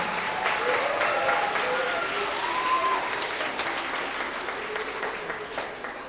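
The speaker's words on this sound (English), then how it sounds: "So let's give them a huge round of applause." Steady applause fills an elementary school award assembly hall for the school team, a sustained clapping crowd with faint voices and a few brief whoops underneath, gradually thinning.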